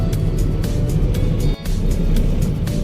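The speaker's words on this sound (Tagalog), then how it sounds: "Ang daming sasakyan guys." Heavy road traffic with a steady dense rumble of engines and a few cars passing close by, one after another, with no talking.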